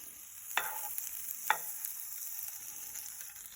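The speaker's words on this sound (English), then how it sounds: "So what we have to do, we have to add some butter." Butter melting and sizzling in a hot frying pan while making eggless French toast, a soft steady crackle with a couple of sharp spits near the start, close and fairly quiet, with no talking.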